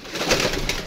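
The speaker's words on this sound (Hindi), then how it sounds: "ये कबूतर है माशाल्लाह" A pet pigeon gives a short, close, fairly loud coo, a brief throaty burst with two swells.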